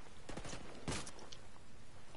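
A faint, distant volley of gunfire in a Ghost Recon firefight: a quick cluster of cracks, one louder report in the middle, then scattered weaker pops fading out.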